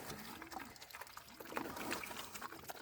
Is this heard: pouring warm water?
yes